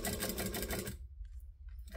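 A sewing machine stitches through a stubbie cooler in a steady, loud, fast run that cuts off suddenly, followed by faint handling clicks and a short quiet burst of stitching.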